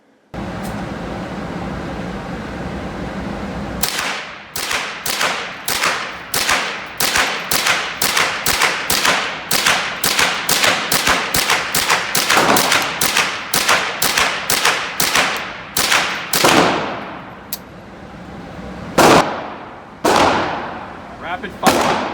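A rifle fitted with a Volquartsen TG2000 trigger fires at an outdoor range in a rapid string of about thirty loud, sharp shots at a steady quick rhythm, with a short pause and a few more shots at the end.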